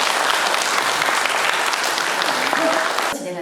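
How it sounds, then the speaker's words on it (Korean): Sustained applause from a large crowd at a Patriotic Martyrs' Day memorial ceremony at Sinam Patriotic Martyrs Park in Daegu fills the space with dense, even clapping that trails off at the end. "큰 박수 부탁드립니다."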